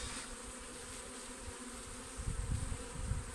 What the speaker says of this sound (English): This one here is a big swarm, and I will check it, make sure there's no more queens in there